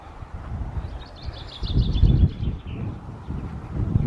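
Faint high chirps from birds drift over a low rumble of wind and rustling outdoors at ruined church grounds with a graveyard in Bedfordshire, with no voices.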